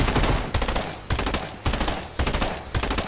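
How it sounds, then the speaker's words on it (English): Burst SMG fire in Fortnite, four loud, close rapid bursts spaced roughly half a second apart, each a tight cluster of rattling shots. "I love the burst SMG."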